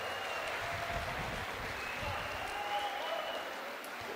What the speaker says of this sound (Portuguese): Quem pode aplaudir o Fernando?